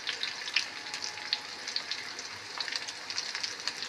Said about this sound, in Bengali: বন্ধুরা পেঁয়াজটা ভাজা ভাজা হচ্ছে।